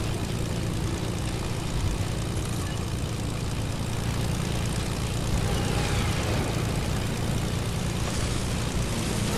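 A propeller airplane engine in a video game drones loudly and steadily throughout, a dense continuous roar with no pauses and no speech.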